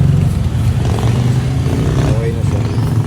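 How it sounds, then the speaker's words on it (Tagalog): A Toyota Fortuner with a 2GD diesel engine rumbles steadily at idle through its exhaust after a downpipe replacement, a loud continuous low drone with a voice speaking over it. "Mas lumutong yung tunog ng exhaust."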